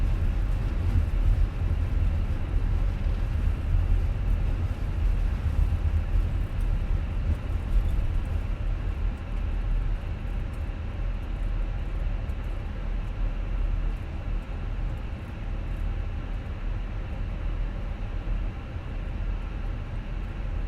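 Fenix A320 airliner rolling down the runway in Microsoft Flight Simulator 2020, a steady loud low engine and wheel rumble with a constant hum, unbroken and close.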